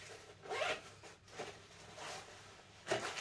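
Zipper on a backpack lid pocket being pulled open and closed in several short, quick zips close to the microphone, with small pauses between them.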